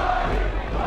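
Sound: wrestling crowd chanting

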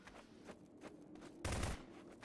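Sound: gunshots in a prop hunt video game

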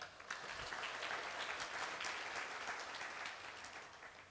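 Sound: audience applause at MOPCON 2017 conference

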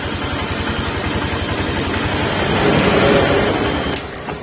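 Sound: motorcycle engine idling

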